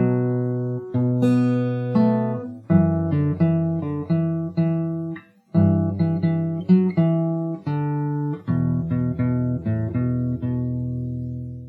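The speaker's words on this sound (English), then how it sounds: "So if I play the whole thing once from the start till here," Guitar plays the opening phrase of a song from Cyberpunk 2077, a steady run of clean plucked notes and ringing chords with one brief pause midway, close and clear, with no voices.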